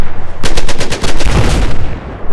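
Rapid automatic gunfire from the Battlefield 4 video game, a loud burst of closely spaced shots lasting about two seconds with heavy low-end booms toward the end, no talk over it.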